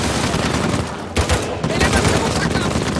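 Turret gunfire rattles in the action game Uncharted 4 as a dense, loud burst of rapid shots fills the scene. The barrage breaks off briefly near the middle before resuming.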